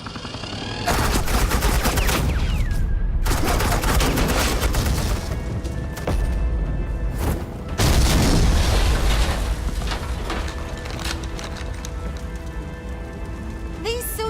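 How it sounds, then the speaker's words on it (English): Sustained suppressing gunfire in Batman: The Enemy Within, a dense rattling hail of rapid shots in long bursts with brief gaps, loud and close. "This is Agent Quinn, suppressing fire"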